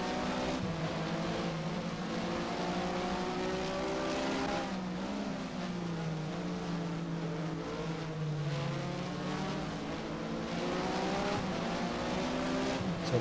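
A Porsche Mobil 1 Supercup race car at Catalunya in the Race07 sim, its engine droning loud and steady throughout, pitch sagging as it lifts off and downshifts, then climbing again with faint tire scrub.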